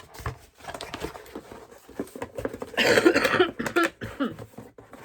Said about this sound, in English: Oh dear, this cough.